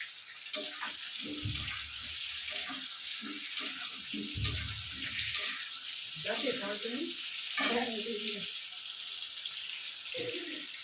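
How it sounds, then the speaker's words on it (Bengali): Potatoes and ash gourd frying in hot oil until browned, a continuous sizzle with intermittent clinks and stirring, and a voice murmuring now and then underneath. "আলুগুলো চাল কুমড়াগুলো একদম লাল করে ভেজে তুলে রাখতে হবে।"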